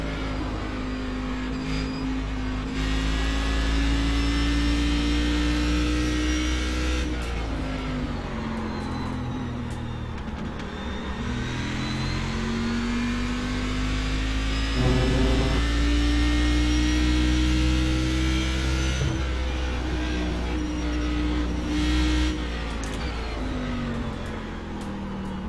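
Cadillac race cars in the iRacing game, Canadian Tire track, with a loud continuous engine drone that rises and falls through gear changes and revs, steady and close throughout with no talk.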